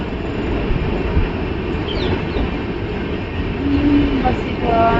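Train running loud and close, a dense steady rumble of wheels on track with brief metallic squeals rising above it.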